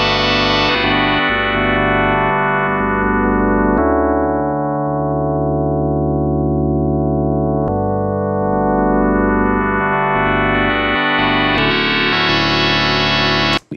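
Arturia DX7 V software synthesizer producing an FM patch whose tone shifts as one operator's level is lowered: long sustained chords with brightness sweeping down and back up, loud and continuous with no speech.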